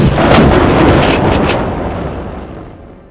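A single heavy boom with a rumbling roll that slowly fades over a few seconds, loud and close, no voices.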